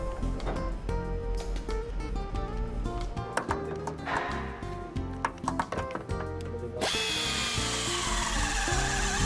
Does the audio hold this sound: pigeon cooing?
no